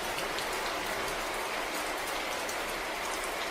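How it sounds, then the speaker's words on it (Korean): Steady rain pours down as a sound effect in a Korean children's folk tale, a dense, even hiss of drops falling continuously with no breaks. "비가 오던 어느 날"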